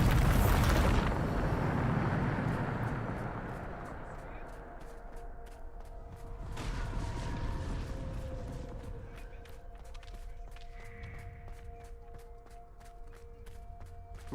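A Bombarda spell explosion in the Hogwarts Legacy video game opens with a loud burst, followed by a fading rumble, a second softer boom, and quiet ambient game sounds, with faint talk in the background.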